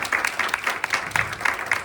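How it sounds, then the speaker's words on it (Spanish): An audience at a sports-nutrition presentation claps to welcome a speaker, a short burst of moderately loud applause with distinct individual claps in an uneven rhythm. "Lo recibimos con un aplauso."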